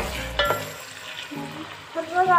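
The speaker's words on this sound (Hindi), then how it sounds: "तो गाइस मैं तो एक साइड पे ऑनियन भी फ्राई कर रही हूँ" Onions frying in a pan with a steady low sizzle, a few stirring scrapes and utensil clinks over it, and brief soft voice sounds near the end.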